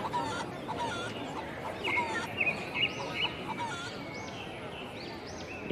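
A plump chicken in a cartoon scene near a meat shop clucks in a series of short, rising calls over a busy background hum.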